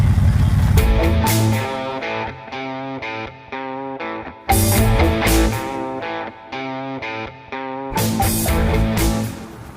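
A junkyard Ford Mustang Mach 1 V8 cranks and fires easily, then runs loudly with rough, pulsing revs that rise and fall in several bursts.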